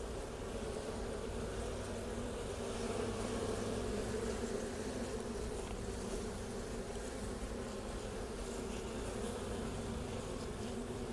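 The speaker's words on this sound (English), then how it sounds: "I just wanted to see my bees." Honey bees buzz steadily and continuously around a hive, a dense droning hum that stays fairly close throughout, with no voices.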